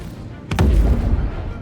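The Gatac Syulen alien starter ship in a space video game fires two sharp shots in quick succession, followed by a deep rumbling boom that slowly fades.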